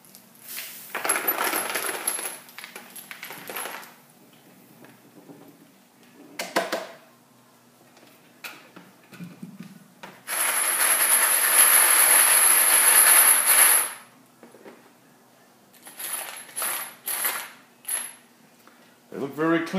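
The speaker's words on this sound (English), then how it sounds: "we're going to empty the media and the shells into the sifter pan" Brass shell casings and tumbler media pour out of a Cabela's Model 400 vibratory case tumbler into a sifter pan, loud metallic clattering and rattling in bursts with one long sustained pour in the middle.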